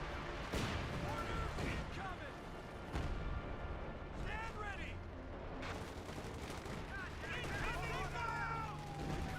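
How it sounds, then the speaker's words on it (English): Gunfire in a Company of Heroes 2 forest battle rattles in scattered cracks and bursts amid distant booms, with a voice talking over the din throughout. "Scouts are firing."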